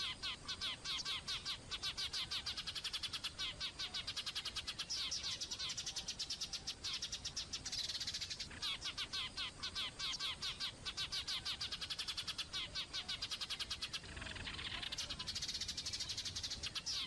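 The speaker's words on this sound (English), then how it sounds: "Bluetits are energetic and intelligent birds." A blue tit gives rapid, repeated high chirps and song phrases in fast rhythmic bursts, fairly faint and continuous, with a few short pauses and no voices.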